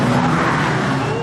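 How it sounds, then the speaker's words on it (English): Banger racing car engine screaming at high revs, loud and close, a continuous strained roar with a rising whine throughout. "the engine's screaming"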